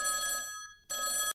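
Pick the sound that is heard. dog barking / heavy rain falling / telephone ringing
telephone ringing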